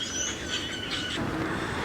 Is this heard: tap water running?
no